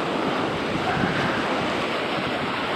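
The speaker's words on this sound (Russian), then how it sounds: "Ветер, Сашка сдувает." Steady, roaring wind buffets the microphone outdoors in snowless New York State, a constant broadband rush with no pauses.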